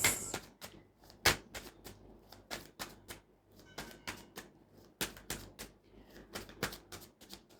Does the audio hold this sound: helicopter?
no